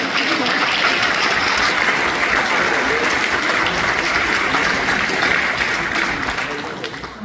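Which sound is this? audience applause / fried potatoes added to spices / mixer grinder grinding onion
audience applause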